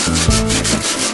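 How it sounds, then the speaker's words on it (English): Sanding pitted, rusty metal on a Ford F100 truck body, a loud, steady rasping scrub with rhythmic back-and-forth strokes close up, no talking. "We're going to sand it till it's smooth."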